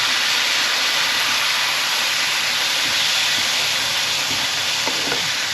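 Stuffing mix with boiling water added sizzles and steams in a hot pan, a steady loud broadband hiss with occasional crackles throughout, while a bacon and leek pudding is being cooked.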